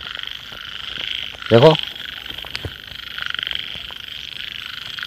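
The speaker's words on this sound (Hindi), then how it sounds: "कितना बड़ा मेंढक है भाइयों" A large frog lets out one short, loud croak up close against a quiet outdoor background, and someone briefly speaks just before it.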